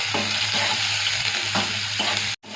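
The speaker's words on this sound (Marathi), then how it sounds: "कांदा चांगला परतून घेऊया" Onions, curry leaves and chillies fry in a pan, a steady loud sizzle with stirring scrapes throughout, briefly cutting out near the end.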